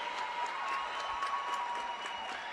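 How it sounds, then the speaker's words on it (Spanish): Basketball fans of Santa Tecla applauding in an arena during a league game as the clock winds down, a steady, moderately distant wash of clapping with faint crowd murmur throughout. "la afición tecleña comienza a aplaudir"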